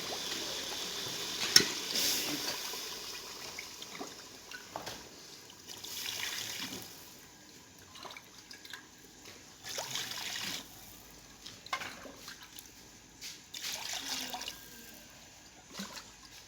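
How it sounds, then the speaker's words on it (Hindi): Water poured into a pot of pulao being cooked in a village kitchen, a steady trickling and splashing pour that rises and falls in bursts over time, with no talking. "अभी इसमें पानी डालूंगा मैं।"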